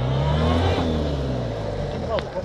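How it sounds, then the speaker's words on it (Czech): A Toyota LJ70 turbo off-roader revs hard, spinning all four wheels off-road. Its close, loud engine drones steadily, with the pitch sagging and rising under load. "Roztoč mi všechny 4 kola konečně, ať to vidím."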